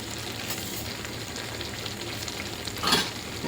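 Hakka noodles with masala stir-fried in a hot pan at home, a steady close sizzle with scraping and tossing, and a brief louder clatter near the end, with no talk.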